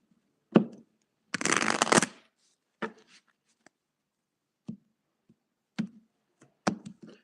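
A tarot deck shuffled up close: a sharp tap, a longer riffling burst, then scattered single card snaps and taps with silence between.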